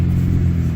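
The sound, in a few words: Chevy Malibu engine cranking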